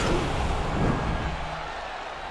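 Arena crowd in EA Sports UFC 4 roars and cheers as a steady, dense wash of noise that swells slightly early on before settling to a sustained, loud din throughout.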